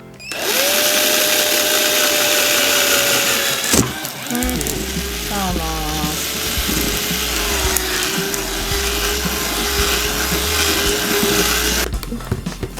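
A drill whines steadily as it bores a hole through a hard plate, pausing briefly midway and then resuming with a lower grinding pitch before stopping.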